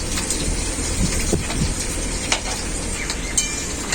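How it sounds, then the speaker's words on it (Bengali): Vegetables with fried potato and spices sizzle and are stirred in a pan for vegetable khichuri, a close, steady frying hiss with occasional scrapes and clinks. "মশলার সাথে সবজিটাকে খুব ভালো করে কষিয়ে নেব।"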